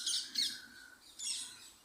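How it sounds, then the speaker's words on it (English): Green parrots calling as they fly around in Tipton, West Midlands, England: a few shrill, fairly faint squawks and chirps spread across a short moment, with no talking. "Those are green parrots in Tipton, in the West Midlands,"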